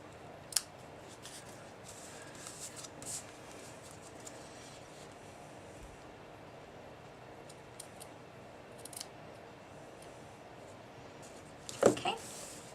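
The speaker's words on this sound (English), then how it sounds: "Now I'm going to bring in my ribbon scissors. Just going to clean up these tails." Ribbon scissors trim the loose ribbon tails on a handmade pincushion card, giving a few quiet, separate snips with a sharper cut near the end over low room noise.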